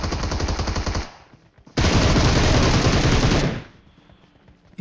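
Loud bursts of automatic gunfire in PUBG Mobile, one sustained volley, a short pause, then a longer continuous burst that cuts off, fired close up with no talk.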